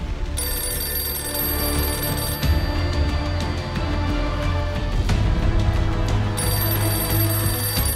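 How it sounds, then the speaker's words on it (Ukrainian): An old telephone rings continuously with a loud, steady bell tone, heard alone in a room with no talking. "Ну, це хоч і старий, але зрозуміло, що телефон."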